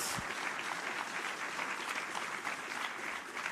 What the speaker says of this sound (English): Let's get a huge round of applause for all of our finalists and winners in this year's project categories